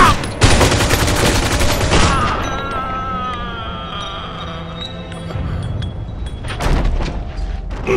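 Gunfire from the Mafia 2 video game: a loud dense burst of shots fills the first two seconds, then the action eases into ringing tones and rumble before further blasts return near the end.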